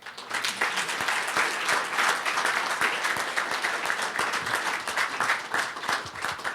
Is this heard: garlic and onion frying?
no